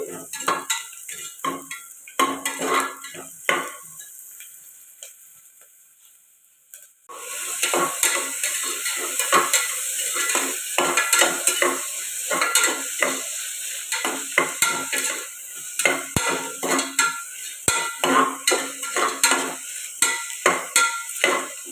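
Onion and tomato frying for veg pulao, stirred with a metal spoon: sharp scraping and clinking strokes at first, then a loud steady sizzle joins under continued rhythmic stirring, no voices.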